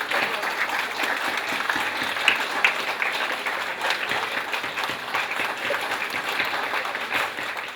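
Sustained applause from a crowd at Nadi, Fiji, welcoming the Fijian Prime Minister, steady dense clapping throughout with no pauses, moderately loud.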